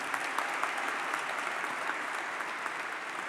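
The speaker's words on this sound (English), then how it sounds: "Let's give our mayor a round of applause" A crowd applauds the mayor of Atlanta at a public event, steady dense clapping held at an even level throughout, with no voices over it.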